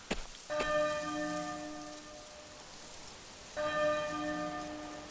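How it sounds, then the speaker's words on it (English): A church bell in the Octopath Traveler II video game tolls twice, each strike ringing out clear and sustained over a soft steady rain, with no voices. "There's the bell again. It has a beautiful sound."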